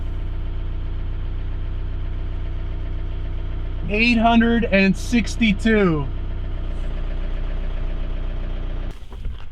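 Steady low hum of a high-mileage VW Golf (862,000 km) engine idling throughout, with a person speaking briefly over it partway through.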